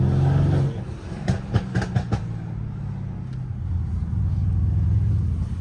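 A Ferrari F40 LM engine rumbling close by, with a few sharp revs blipping midway before it settles back into a deep, steady idle-like drone.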